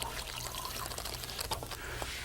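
Powdered tropical punch drink mix is poured into a cooler of liquid for a homemade fermented drink, a soft, continuous pouring trickle with faint splashes, quiet and close, ending in a brief clunk.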